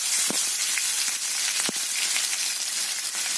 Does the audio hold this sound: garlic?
yes